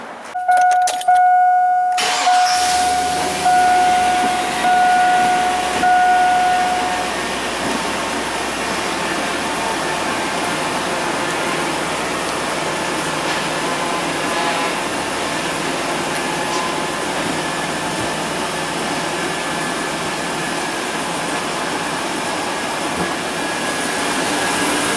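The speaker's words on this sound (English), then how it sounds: "So now, we're ready to fire it up and see if power steering fluid spurts out of everything or if it works" A GM truck engine, just fitted with a replacement hydroboost hydraulic brake booster, cranks briefly and catches, then runs at a steady, loud idle for the rest of the span.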